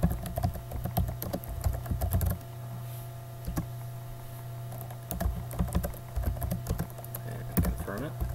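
Rapid clicking of keys on a computer keyboard as a password is entered in a quiet room, steady bursts of close keystrokes with short pauses and a low hum underneath.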